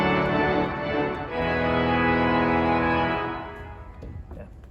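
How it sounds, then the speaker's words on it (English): Every reed stop of a pipe organ's swell division plays together in a loud, brassy sustained chord that shifts once and then dies away into the room's echo. "Yeah, so all the reeds together."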